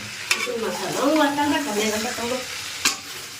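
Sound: stirring chicken with chili and coriander powder in pan

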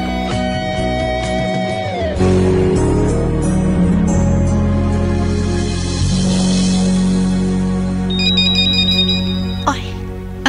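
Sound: telephone ringing

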